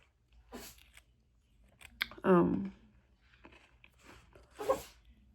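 A single sharp sneeze bursts out midway, close and loud, with quiet talk and small noises around it before and after.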